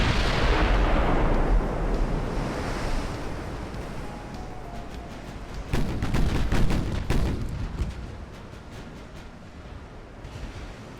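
Battleship guns firing in the naval game Ultimate Admiral: Dreadnoughts, a deep rumbling boom over a constant roar of sea and wind, followed by a cluster of sharper secondary gun reports a few seconds later.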